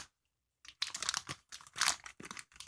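Kinder Joy chocolate packaging torn open by hand: after a short silence, a run of close, crisp plastic crinkles and crunchy tearing bursts lasting about two seconds.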